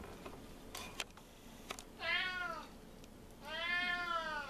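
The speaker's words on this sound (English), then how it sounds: "Even Dak the cat wants some" A cat meows twice in a home kitchen while chicken with rosemary and lemon cooks, with soft clicks and clatter before the drawn-out cries.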